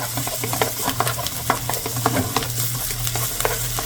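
Chopped onion and garlic sizzling in a pan, a steady close hiss broken by frequent crackles and pops, with a low continuous hum of a burner or extractor underneath throughout.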